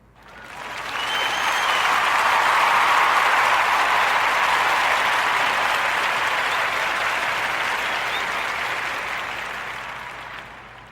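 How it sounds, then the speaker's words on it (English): Warm round of applause from a podcast audience, loud dense clapping that swells within a second, holds steady for about nine seconds, then tapers slightly at the end. "So let's join me into giving our brother Thomas Moorhan a warm narrative podcast round of applause for Sterling Motor Cars."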